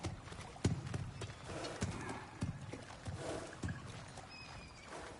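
Horse hooves clip-clop in an irregular walking rhythm in the video game God of War Ragnarök, fairly quiet and close, with soft ambient game sound around them and no talking.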